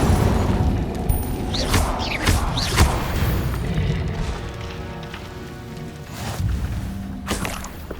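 A fire spell cast in Hogwarts Legacy, heard as a few whooshing bursts and thuds over rumbling game ambience, with sharp flares of sound around the middle and end.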